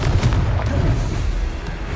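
A Confringo fire spell explosion in the Hogwarts Legacy video game rumbles as a loud, booming blast with a dense low roar sustained throughout.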